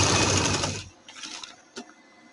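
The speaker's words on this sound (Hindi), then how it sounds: "इस तरह हम सिलाई चलाएंगे।" A sewing machine stitches trouser fabric in a loud, fast whirring burst that stops abruptly, followed by a few faint clicks and handling sounds.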